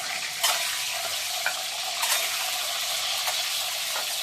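An egg frying in a pan gives a steady close sizzle with a few soft clicks and scrapes, and no voices are heard.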